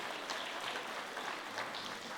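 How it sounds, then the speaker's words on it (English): Audience at a Filipino community Independence Day celebration applauds the organisers, a soft, distant wash of many hands clapping that holds steady, with faint voices underneath. "a round of applause to all our officers, helpers, ushers, and everybody behind this celebration"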